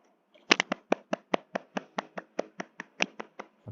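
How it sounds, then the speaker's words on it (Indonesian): Classroom applause after a student group's presentation during a peer-teaching session, heard as a short run of about fifteen distinct, evenly spaced claps, close and crisp, with no talking. "beri tepuk tangan dulu."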